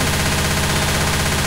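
Rapid automatic gunfire from the video game Left 4 Dead 2 roars continuously and loudly through the whole short stretch, dense and unbroken, with no voices over it.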